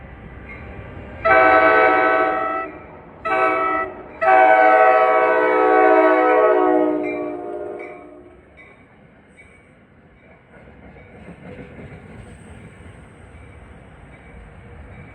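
Train 66 from Middletown to Hoboken sounds its horn in two short blasts then one long sustained blast, loud and close, before the horn stops and the train's rumble continues more quietly as it passes.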